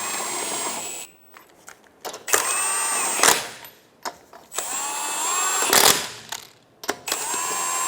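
Lug nuts on a 2012-2016 Subaru Impreza wheel are run down in a star pattern with a power tool, giving several loud, close bursts of whirring and rattling separated by brief pauses.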